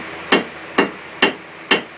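Four evenly spaced, sharp ringing blows of a hand hammer on hot steel over an anvil, squaring out a forged steel leaf, each strike crisp and close with a short decaying ring.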